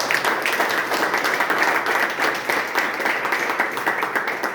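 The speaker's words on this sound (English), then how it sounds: "Let's once again cheer for our new set of leaders." Sustained applause and cheering from an audience at a Toastmasters club installation ceremony welcoming new club leaders, dense steady clapping filling the whole stretch at fairly loud level.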